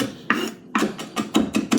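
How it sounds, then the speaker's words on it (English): Knife mincing garlic with coarse kosher salt on a cutting board, a series of about seven rasping, scraping strokes in a steady rhythm, close and fairly loud with no talk. "And then you mince it."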